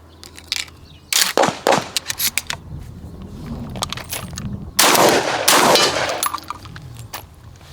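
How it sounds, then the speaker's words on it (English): Benelli M3 shotgun firing Red Star slugs until the magazine tube is empty: a rapid string of loud, sharp blasts with metallic action clatter between them, followed by a couple of heavier shots, close by. "empty the entire magazine tube, no problem"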